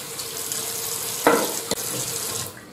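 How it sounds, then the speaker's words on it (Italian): Cold tap water runs steadily into a sink while a face is rinsed after shaving, with two brief splashing bursts standing out near the middle over the constant close-up rush of water. "sciacquo con acqua fredda"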